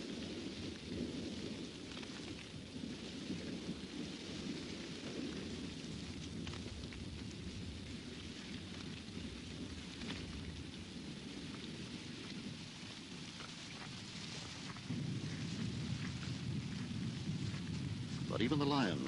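Heavy rain pours across the African savanna during a fierce thunderstorm, a steady dense roar with low rumbles of thunder rolling underneath, swelling louder toward the end.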